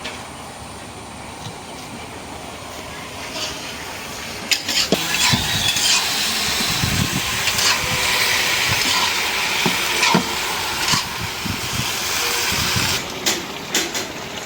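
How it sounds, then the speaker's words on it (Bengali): Pumpkin greens stir-fry in oil, with a continuous crackling sizzle and intermittent scraping and clattering as they are turned in the pan, close and moderately loud. "এখন দুন্দুল দিয়ে শাক দিয়ে ভাজি করবো, তেল দিয়ে দিই। নাড়াচাড়া দিয়ে ভালো করে মিশাই দিই"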